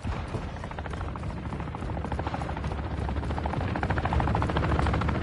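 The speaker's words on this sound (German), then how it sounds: "feindliche Drohne über uns." An enemy drone hovers overhead in the Call of Duty video game, giving a loud, continuous rotor-like thrumming that builds slightly toward the end, with no voices over it.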